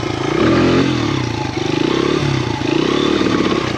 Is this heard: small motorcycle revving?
yes